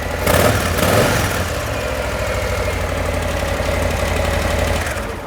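An Indian motorcycle engine with stock exhaust idles steadily with a deep, throbbing rumble, close and loud, briefly rising at the start before settling into an even, pulsing idle.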